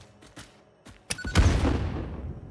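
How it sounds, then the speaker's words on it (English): Explosion in the factory-building game Satisfactory, a few small knocks followed by a sharp crack and a loud booming blast that rolls and decays over a second. "Oh, got an explosion."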